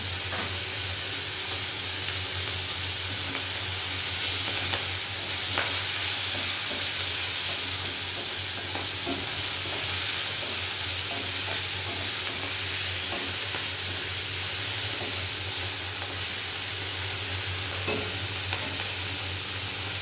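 Fish rubbed with salt and turmeric frying in oil in a pan, a steady loud sizzle and hiss running throughout with occasional stirring scrapes, close up and without speech.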